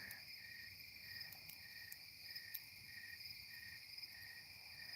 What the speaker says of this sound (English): tons of crickets going on there, and yeah, tree frog